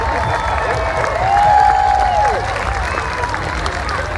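A crowd at the Yorkshire Balloon Fiesta cheering and applauding in an open field, a broad wash of voices swelling toward the middle, with a faint whistle-like tone and chatter mixed in.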